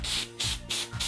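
Three short bursts of aerosol spray, each a loud hiss lasting a fraction of a second with brief gaps between, close and alone.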